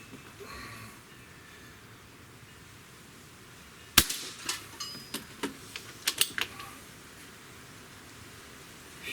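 A Beeman QB II 1085 air rifle fires a single sharp crack, followed by a quick run of metallic clicks and rattles as the action is worked, against a steady outdoor hiss.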